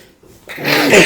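A single sharp sneeze from a person, nearby and loud, rising quickly after a short quiet intake of breath.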